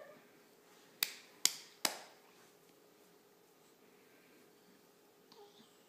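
A child's hands clap three times in quick succession, sharp and close, followed by quiet room tone and a faint shuffle near the end.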